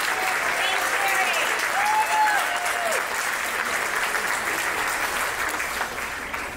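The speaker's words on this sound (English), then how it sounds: "One more round of applause." Dense, continuous applause from a crowd at a graduation ceremony, many people clapping steadily at moderate distance, with faint voices and a few light calls mixed in, fading a little toward the end.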